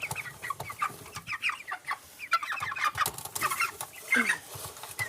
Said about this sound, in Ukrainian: це півник у нас